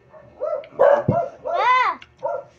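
A dog close by gives a few short barks and drawn-out, whining yips, spaced irregularly over about two seconds.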